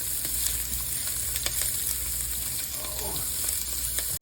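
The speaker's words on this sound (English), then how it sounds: "I chopped about 2 cloves of garlic, 2 big cloves of garlic. I added those." Chopped garlic fries in a skillet for a one-pot pork pot roast bucatini, giving a dense, continuous hiss with a few light clicks and scrapes, close and fairly loud, with no talk.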